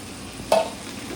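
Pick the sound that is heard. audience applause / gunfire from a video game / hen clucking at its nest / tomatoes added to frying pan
tomatoes added to frying pan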